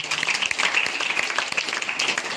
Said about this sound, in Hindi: बार सर के लिए बहुत बहुत ताली बजाए।